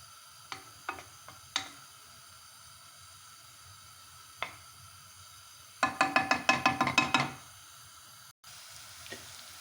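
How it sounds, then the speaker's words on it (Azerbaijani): Onions fry in oil in a pan for fish soup, a faint steady sizzle under scattered clicks and a burst of quick rhythmic scraping taps as they are stirred, close by with no talking. "bax soğançamız belə pişir, qovrulur"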